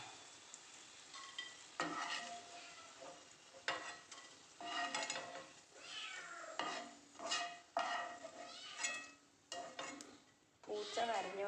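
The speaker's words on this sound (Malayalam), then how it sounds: "പൂച്ച കരഞ്ഞുകൊണ്ടിരിക്കുന്നതാണ്." A cat meows several times, with drawn-out, rising and falling cries, near a kitchen pan where bitter gourd is frying. A continuous sizzle and clattering stirring run underneath.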